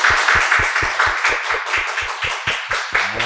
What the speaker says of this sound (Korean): 우리 주님께 영광의 박수.